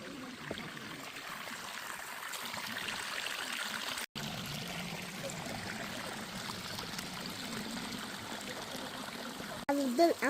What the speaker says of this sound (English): Can you hear the sound of the waterfalls?